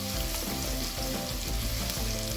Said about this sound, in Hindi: सबसे पहले इसको झट से फ्राई करना है इसमें ऑयल में।